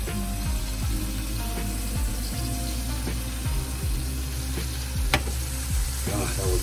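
Oil sizzles steadily in a frying pan while a burrito cooks, a dense close hiss punctuated by repeated scraping and clinking from stirring.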